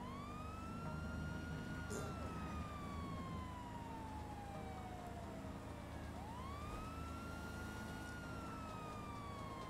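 Police car siren in the video game GTA Online's Doomsday Heist, a slow wailing rise and fall sweeping twice over a steady engine drone, loud and continuous.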